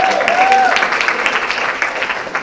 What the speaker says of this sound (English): Round of applause for Lassie.